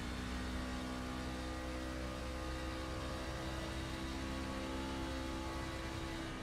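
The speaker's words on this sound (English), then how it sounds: "you can really hear him feathering the throttle" A racing truck's engine in a racing video game, with the driver feathering the throttle on a road course, giving a steady droning hum of mid-level loudness with no pause, then a brief click at the very end.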